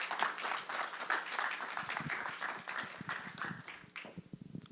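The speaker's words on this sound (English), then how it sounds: "Round of applause for John." Modest audience applause for a keynote speaker at a conference, a smattering of close individual claps rising briefly then thinning out toward the end.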